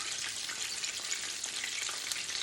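Spicy chicken thigh fillets sizzle steadily in a frying pan, a dense, continuous crackle and hiss with small pops, close and fairly loud, with no talking.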